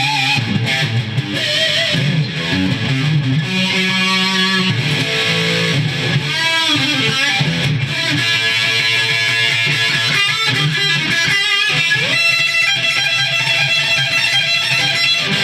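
An electric guitar with active electronics plays a short riff through heavy distortion, loud and close, with sustained chords and bends filling the whole passage without talk.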